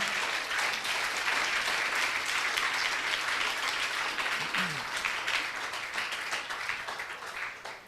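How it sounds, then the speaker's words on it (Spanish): A church congregation bursts into sustained applause after the pastor's call to give a round of applause to the Lord, with dense, steady clapping filling the room and a faint voice underneath, tapering slightly toward the end. "¿Cuánto le damos un aplauso al Señor?"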